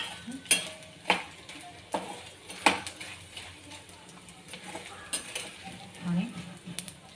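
Edible gum frying in ghee, with soft steady sizzling under clinks and scrapes of a spoon stirring in the pan.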